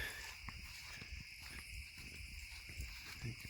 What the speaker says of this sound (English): You can probably hear the crickets.